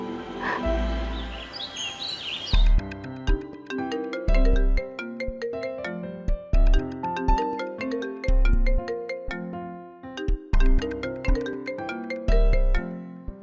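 A melodic phone ringtone plays loud and close, its bright repeating notes sounding on their own after a short burst of chirpy sound at the start.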